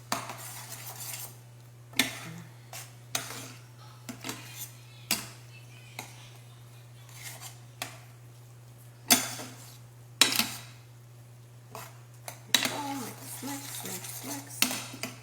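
Cheese being mixed into a dish with a utensil, repeated close scraping and clattering strokes against the pan or bowl in an irregular rhythm over a steady low hum, without speech.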